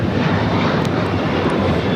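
United Airlines Boeing 737-900ER taking off from LAX, bound for San Francisco, a continuous loud engine roar with a deep rumble, steady and without voices over it.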